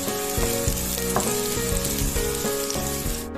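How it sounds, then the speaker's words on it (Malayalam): Green chillies sizzle loudly in a hot pan while a utensil stirs them in a regular scraping rhythm, the frying constant and close throughout. "നന്നായിട്ടൊന്ന് ഇളക്കി കൊടുക്കാം."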